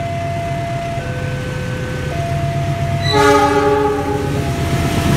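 The KA Lodaya passenger train on the Bandung to Solo route passes the Merdeka level crossing, with steady crossing-signal tones giving way to a loud, close, sustained multi-tone horn over rumbling wheels.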